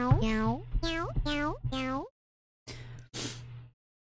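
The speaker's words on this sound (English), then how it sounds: "cat meow." A cartoonish sampled cat meow from the WarioWare DIY music maker repeats four times in quick succession, followed by two short bursts of noisy sound, loud and close with no talk.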